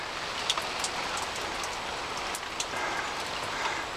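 Steady rain drums on an allotment shed roof, a dense continuous patter with scattered louder drips, heard up close with no talking.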